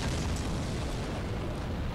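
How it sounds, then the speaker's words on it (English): Thunderous boulder explosions thrown by giants in the video game Dark Souls, in Sen's Fortress, heard as a dense, continuous roaring blast of low rumble filling the whole moment, loud and close. "there's giants throwing giant boulder explosions"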